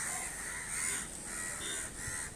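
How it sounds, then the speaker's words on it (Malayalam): Crows call outdoors in a rural garden, giving three or four harsh caws in quick succession at moderate distance, with no talking. "കാക്കയെല്ലാം"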